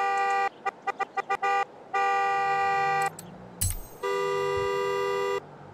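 Car horns in the racing video game Forza Horizon 4, a burst of short rapid toots followed by longer sustained blasts in several different tones, loud and clear with no talk.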